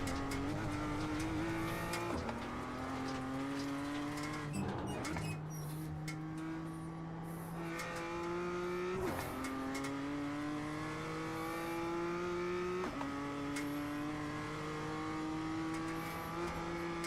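Formula 4 race car lapping Laguna Seca, its engine screaming loud and close through repeated upshifts with brief drops between gears, a steady high-revving drone across the whole stretch.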